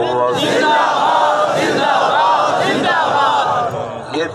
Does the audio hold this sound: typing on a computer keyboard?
no